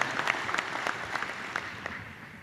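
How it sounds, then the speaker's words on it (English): Luncheon audience at an Indiana County Chamber of Commerce event applauding, a steady wash of many hands clapping at moderate distance throughout, with no talk over it. "Please give Jim a round of applause."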